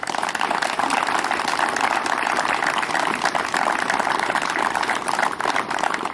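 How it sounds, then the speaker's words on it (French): Audience applause at a commemoration ceremony marking the end of the Second World War, a dense, continuous wash of many hands clapping, fairly loud and steady from start to finish. "je vous demande d'applaudir Madame Jeanne Herriez."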